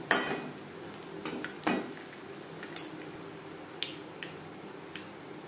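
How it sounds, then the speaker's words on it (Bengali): Panch phoron and bay leaf temper in a little hot oil, a low crackling hiss broken by several sharp clinks and taps of a utensil against the pan, with no talking. "ফোড়নে দিয়ে দিলাম পাঁচফোড়ন তেজপাতা"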